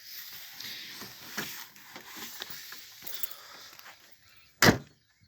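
Rustling and handling noises lead up to a single sharp mechanical clunk near the end as the front right door of a 1977 Ford Taunus 1.6 GL opens.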